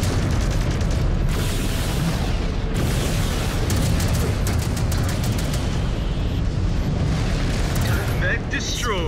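A mech blows apart in MechWarrior 5: Clans, a loud, heavy rumbling explosion that fills the whole stretch with roaring blast noise and crackling debris, and a voice comes in near the end.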